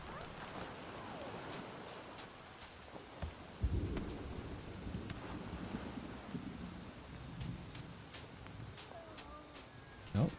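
Rainstorm in the Bugsnax video game, steady rain hiss under low rolling thunder rumbles, with sharp chirps and small pings scattered throughout, fairly quiet.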